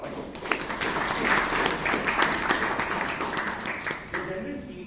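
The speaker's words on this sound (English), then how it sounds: "let's give him a really big round of applause." An audience at a Toastmasters meeting in Bangalore breaks into sustained applause, a dense wash of clapping lasting several seconds, with some voices mixed in.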